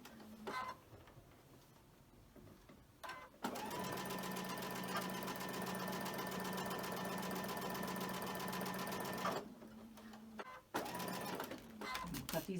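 A sewing machine chain stitches quilt rows in a steady whirring run of rapid needle strokes, with softer starts and stops and quiet talk in the pauses.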